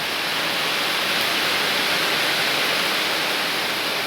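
Heavy rain pours steadily in a forested area beside a house compound wall, a dense even hiss that holds at constant loudness throughout with no talking.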